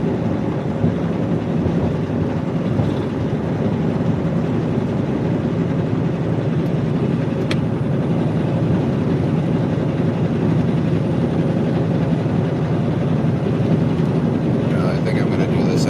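A truck engine drones steadily while driving, a continuous low rumble that holds the whole stretch with no pauses.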